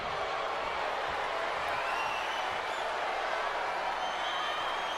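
Steady crowd noise from a WWE 2K wrestling game arena, a broad continuous roar of disapproval from the audience that runs unbroken and fairly loud throughout.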